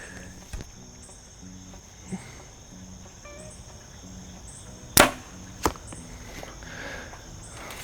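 A Backyard Bows Obsession DEFCON compound bow shooting an arrow at an outdoor elk target, heard as one sharp loud snap and a quick smack soon after, over soft crickets and faint background rustle.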